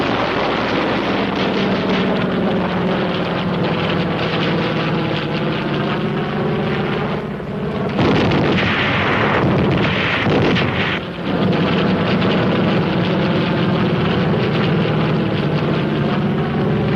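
Military aircraft roar overhead in Korean War combat footage, a loud sustained engine drone with a surge of rushing, explosive noise midway as rockets are fired during strafing.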